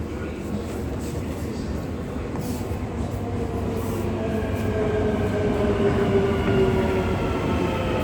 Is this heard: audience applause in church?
no